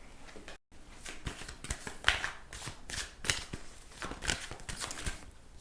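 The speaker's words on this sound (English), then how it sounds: "Now I'm going to pick some cards from the Osho deck." Cards from an Osho tarot deck are handled and picked in a quiet room, with soft papery shuffling, riffling and light tapping in irregular bursts, close and gentle, with no talking.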